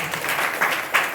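Brief burst of congregation applause at a Sunday church worship service, a dense wash of many hands clapping for about a second, with no clear voice over it.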